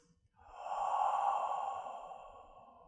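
A single deep breath during a seated chair yoga session, a slow, close, airy exhale that swells and fades over a couple of seconds, with no speech.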